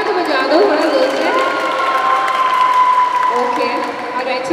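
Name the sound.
audience applause and cheering at a launch event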